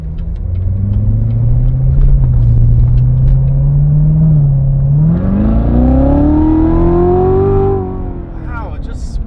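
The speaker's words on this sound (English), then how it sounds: "Wow, it just spins the tires." A Corvette C7 Z06 launches hard with its tires spinning, the engine note climbing loud and close in a rising rumbling sweep that holds, then drops off. An excited voice exclaims from inside the car.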